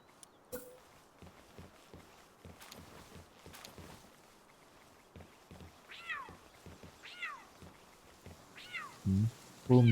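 Several short cat-like meows from a creature in the video game Palworld, sounding in quick clusters over soft footsteps and thumps, followed by a couple of louder low bursts at the close.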